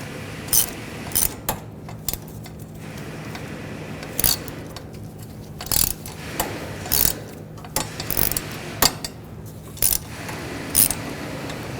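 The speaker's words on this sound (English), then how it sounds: "Using a 13mm socket, go in behind here" A ratchet with a 13mm socket loosens a rear sway bar link nut under the axle of a 2007-2013 BMW 328i, in short bursts of rapid clicking separated by pauses.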